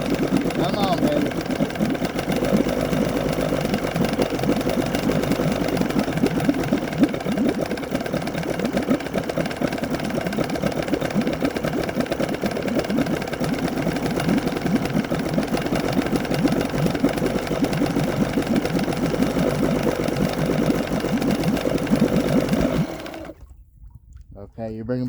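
A small outboard motor on a little boat idles roughly and steadily for about 23 seconds, loud and close, then cuts out abruptly as it stalls near the end.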